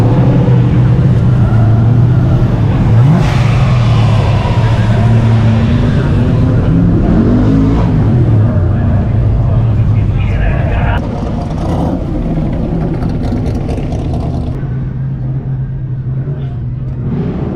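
Cars revving at an autocross event at a Goodguys Columbus show, loud engines climbing and falling in pitch as they accelerate and pass nearby, under a continuous roar, with people talking over them.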